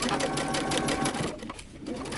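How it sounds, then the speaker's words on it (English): A sewing machine runs a long basting stitch on a 5/8-inch seam allowance while sewing a dress from a Simplicity pattern. It gives a steady, close mechanical whir that softens slightly near the middle. "using 5/8 of an inch seam allowance and the longest stitch possible on your sewing machine"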